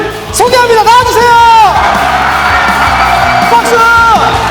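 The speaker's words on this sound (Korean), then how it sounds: "박수." High-school students in a school hall in Gangwon greet a football commentator guest with loud whoops, yells and cheering, rising and falling voices over a crowd roar, close and intense throughout.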